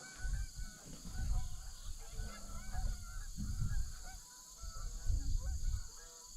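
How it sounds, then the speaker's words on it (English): Geese honk outdoors as winter nears, a series of nasal calls rising and falling over a low background rumble, moderately distant, with no one speaking. "Man, start hearing the geese."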